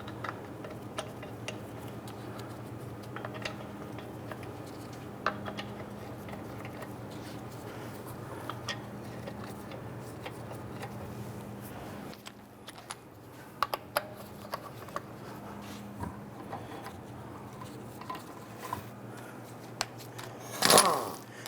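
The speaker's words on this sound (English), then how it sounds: "Let's go ahead and install our lug nuts." Lug nuts threaded by hand onto a wheel of a 2011-2021 Jeep Grand Cherokee, heard as faint, scattered small metallic ticks and clicks over a low steady hum, ending in a brief louder clank.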